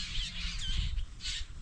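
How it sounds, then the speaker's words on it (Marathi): Crows cawing and squawking over a farm field: several harsh, close calls overlapping in quick succession against a low rumbling background. "पक्ष्यांचा कसा गोंधळ चालू आहे सगळीकडेच."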